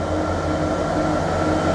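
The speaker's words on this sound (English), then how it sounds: "we've got a container train with a Freightliner Class 86 on the front," A Freightliner Class 86 electric locomotive hauls a container train as it accelerates through Ipswich station, a steady loud rumble with a low drone, heard close and alone.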